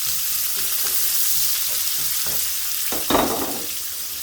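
Onion goes into hot oil with already-browned garlic for a bottle gourd and shrimp curry, giving a loud, steady sizzle with soft stirring scrapes and a brief, louder hiss burst partway through.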